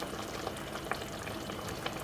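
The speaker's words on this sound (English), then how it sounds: "the piccata sauce is bubbling around it" Creamy chicken piccata sauce bubbles and sizzles in a pan around the chicken, a constant close crackle of frying with small popping bursts and no voices.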